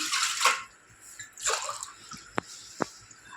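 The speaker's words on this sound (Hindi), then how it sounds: "तो मैं अब इसमें पानी डालती हूँ।" Water poured into a pressure cooker while making dal at home, heard as two splashing pours in a row followed by a couple of sharp drips, close and fairly quiet with no talking.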